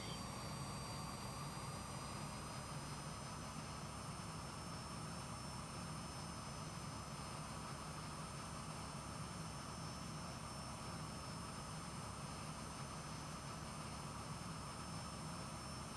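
A light aircraft in Microsoft Flight Simulator on its takeoff roll on a sunny day in the Bahamas, its engine droning loud and steady throughout, with no voices.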